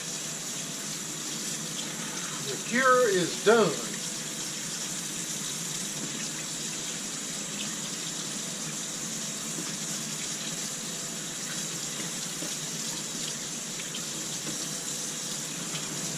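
Warm tap water runs steadily into a sink while cured pork belly is scrubbed, a constant moderate hiss with a few brief splashes and a person speaking briefly over it.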